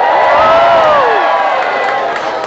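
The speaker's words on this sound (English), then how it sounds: "Cheer if you're proud to be Filipino." A comedy show audience at a Toronto festival cheers loudly, with a sustained crowd roar and high whoops and yells rising over it for a couple of seconds.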